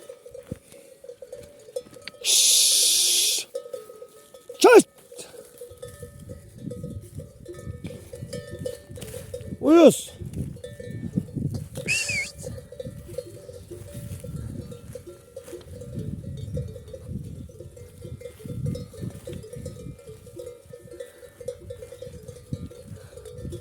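Metallic bells clank irregularly over a steady low rustle of a grazing flock of sheep, with occasional brief louder bursts.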